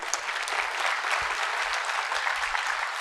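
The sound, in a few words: audience applause at a literature festival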